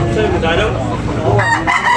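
A rooster crows loudly and nearby amid the bustle of a chicken market in Tabunok, Talisay, Cebu, with other fowl clucking and faint voices in the background.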